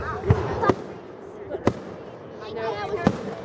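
Fireworks bursting at a public display, several sharp booms spread over a few seconds including a closely spaced double burst, heard at a distance over crowd murmur and voices nearby.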